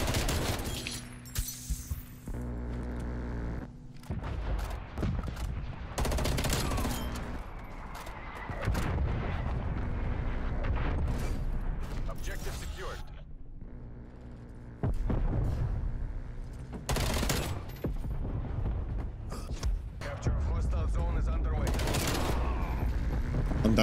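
Automatic rifle fire in Call of Duty Black Ops Cold War, an FFAR free-for-all match: rapid bursts of shots come in repeated clusters, loud and close, with gaps between engagements and talk over the action.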